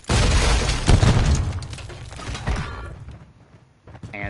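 A stun grenade going off in Modern Warfare 3 on PS5: a loud booming blast at the start that rumbles and fades over a few seconds, followed by quieter game noise, with no talk.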